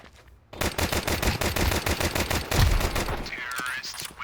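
Rapid bursts of automatic gunfire from a Counter-Strike-style shooter game, loud and sustained with dense repeated shots, a heavier blast midway, then fading into a brief whistling effect.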